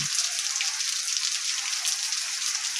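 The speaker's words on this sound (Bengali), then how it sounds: "এত জোরে বৃষ্টি হচ্ছে" Heavy rain pours down in a dense, steady hiss with no pauses, loud and close, and no voices.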